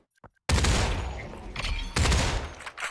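Gunfire from a weapon in the VR shooter game Population One: two loud, dense bursts of rapid shots, the first starting abruptly and the second following after a brief dip, close and dominant.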